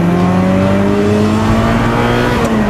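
A Ferrari 328 GTS engine accelerates hard, its rising revs climbing steadily as loud, close engine tone fills the whole stretch, with no talk over it.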